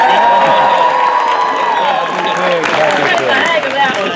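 Crowd applause and cheering from a vaudeville audience at a live pig show, a dense, steady wash of clapping with shouts layered in, loud and close for several seconds.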